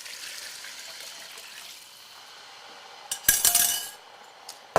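A spoon works through a pot of Creole chicken and sausage gumbo with broth, starting as a soft liquid swish and then turning into bursts of metallic scraping and clinking along the bottom, close by, with no speech.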